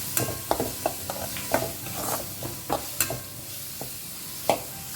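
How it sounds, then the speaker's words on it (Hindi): Onions and curry leaves fry in a pan with a low, constant sizzle while a spatula stirs them, giving scattered scraping knocks and clicks at an uneven pace, close by with no talk. "अब प्याज को ना 1-2 मिनट के लिए अच्छे से भून लेते हैं। ओके, अब मैं इसमें डालती हूँ कड़ी पत्ता।"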